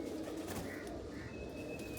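Soft, low pigeon cooing rolls on continuously over a busy murmur of background noise, with a faint high tone near the end.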